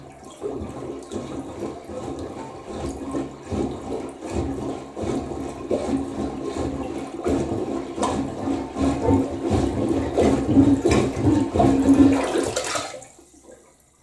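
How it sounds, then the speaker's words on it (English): Water flushing and draining down a clogged household toilet, a loud continuous gurgling rush that swells steadily over about twelve seconds before cutting off abruptly, with no talking. "We just pushed down a couple gallons of water."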